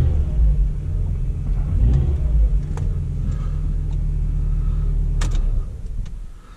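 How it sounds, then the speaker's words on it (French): A car's engine, checked for a cold-start problem, rumbles low and close as it is accelerated. The drone holds steady with a few clicks over it, then drops away near the end. "Là on peut accélérer."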